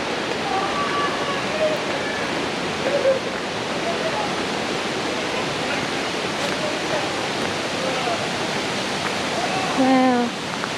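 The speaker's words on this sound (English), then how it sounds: "hear the thunder of water cascading over boulders" Waterfall in Finch Hatton Gorge, Queensland, pouring over boulders as a constant broadband roar, with a few faint bird calls; a short louder swell comes near the end.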